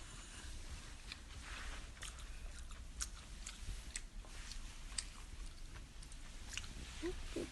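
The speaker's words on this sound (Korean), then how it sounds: "서아 우린 이제 먹어" Someone eats fried chicken and snacks, with faint, close, irregular crunching and chewing sounds against quiet background noise and no talk.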